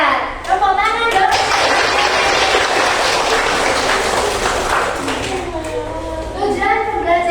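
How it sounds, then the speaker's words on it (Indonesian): Classroom of tenth-grade students clapping together, a dense burst of applause mixed with children's voices, with a teacher speaking before and after. "Tepuk tangan dong."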